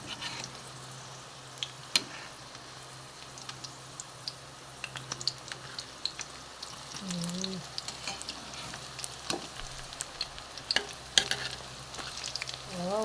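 Okoy made with sabunganay (banana blossom) fritters frying in oil over medium heat, a steady crackling sizzle that carries throughout, with occasional spatters and a few brief kitchen clinks.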